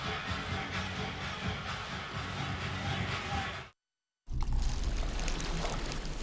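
Ice-cold Coke pours steadily with a fizzing, bubbling rush, breaks off for a moment of silence, then resumes louder with a strong carbonated hiss.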